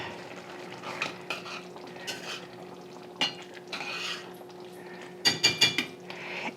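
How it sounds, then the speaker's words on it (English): White wine sauce simmers in a pan for gluten-free spaghetti squash, with a low steady bubbling under repeated spoon scrapes and clinks against the pot, rising to a quick burst of clattering stirs near the end. "add it to our sauce, and let that cook down"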